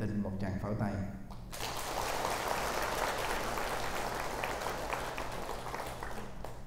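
After a voice stops, an audience at a Buddhist Dharma gathering in Vancouver bursts into sustained, dense applause that holds steady to the end.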